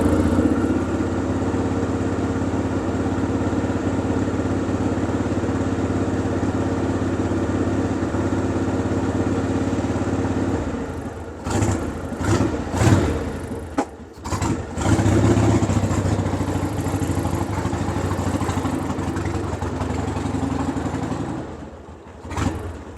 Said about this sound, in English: Now we're going to finally take this for a ride and see if it actually runs and runs good.